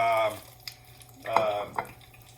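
Oil sizzles quietly as onion rings fry, with a few light scrapes and clinks of stirring in the pan.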